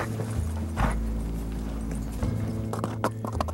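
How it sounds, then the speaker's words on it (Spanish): A Peruvian Paso horse's hooves clip-clop in a light, quick rhythm beneath a steady low hum and music-like background, the hoofbeats moderately close but partly blended into the bed of sound. "El caballo peruano de paso."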